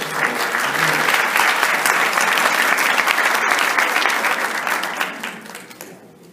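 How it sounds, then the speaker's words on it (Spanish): A seated audience at a symposium on the human rights of psychiatric patients applauds to welcome a psychiatrist to the stage. The clapping is loud and sustained, then fades away over the last second or so. "vamos a dar un aplauso"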